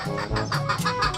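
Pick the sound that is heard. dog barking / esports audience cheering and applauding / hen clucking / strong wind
hen clucking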